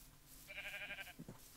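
A Minecraft sheep gives a short nasal bleat, one clear wavering call up close, followed by faint low thumps in the game.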